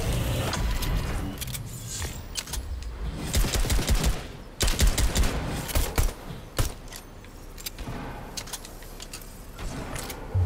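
Gunfire in a Fortnite match, with repeated sharp bursts and rapid volleys crackling through steady game noise, some shots sounding close and loud.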